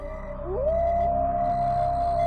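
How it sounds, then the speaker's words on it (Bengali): A long, eerie jackal howl slides upward and then holds steady over a low, rushing wind. "চারিদিকে শো শো বাতাসের শব্দে মাঝে ভেসে আসছে ভয়ঙ্কর এক প্রকার শিয়ালের ডাক।"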